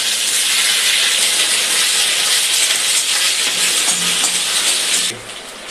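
Whole spices, bay leaves, dried chillies, cumin and ginger go into hot oil and sizzle in a loud, dense, continuous hiss at close range, which drops off sharply near the end.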